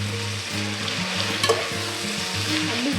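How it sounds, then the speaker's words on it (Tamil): Seven sliced onions sizzle steadily in a pan over a high flame, with a few louder scraping stirs of a spoon cutting through the continuous frying hiss, close and fairly loud with no voices. "இப்போது ஹை ஃப்ளேமில் வச்சு வதக்க ஆரம்பிக்கலாம்."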